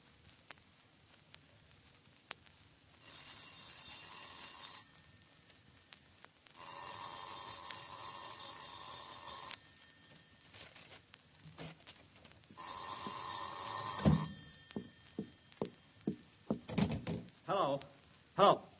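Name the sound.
using the telephone in old time radio drama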